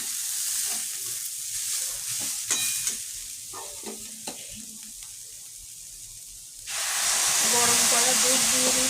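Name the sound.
grated carrots frying and being stirred in a pan for gajar halwa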